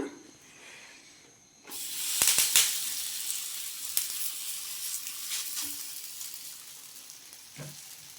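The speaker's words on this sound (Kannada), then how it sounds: "ಸ್ವಲ್ಪ ಆಯಿಲ್ ಹಾಕ್ಬೇಕೀಗ ಆಯಿಲ್ ಹಾಕಿ ಸಣ್ಣ ಬೇಯಿಸ್ಕೊಳ್ಳಿ" Carrot holige, a sweet stuffed flatbread, frying in a little oil on a pan: a steady close sizzle and hiss that flares up loudly after a quiet start, with a few sharp crackles and faint scraping near the end.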